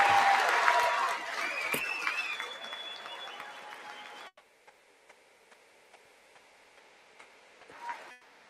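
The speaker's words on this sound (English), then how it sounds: "the Democrats are standing up and cheering for them" Democrats standing, cheering and applauding at the 2026 State of the Union, dense crowd applause filling the first half before cutting to near quiet with faint ticks and a brief swell near the end.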